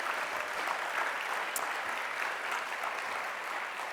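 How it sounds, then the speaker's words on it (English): Steady, dense applause from an audience at a university awards ceremony, filling the whole stretch at an even level with no talk over it. "please, let's give them a round of applause for what a wonderful evening"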